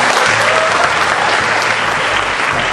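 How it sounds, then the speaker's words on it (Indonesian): Audience applause fills a public lecture hall at UKI campus in Jakarta, a loud, dense, continuous clapping from a large crowd with no talk over it. "Tepuk tangan buat mahasiswa Indonesia"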